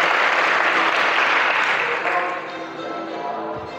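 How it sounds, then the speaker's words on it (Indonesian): Dense audience applause for a student after an MC training performance at Gontor Banyuwangi, steady and loud at first, then thinning and easing off toward the end with a few scattered claps. "Tepuk tangan buat kakak kita."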